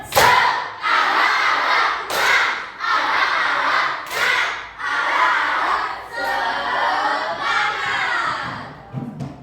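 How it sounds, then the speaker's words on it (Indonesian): A class of schoolchildren performs a spirited clapping chant, loud rhythmic bursts of claps and shouted voices in repeated phrases, each burst separated by brief dips, close and energetic throughout. "tepuk semangat"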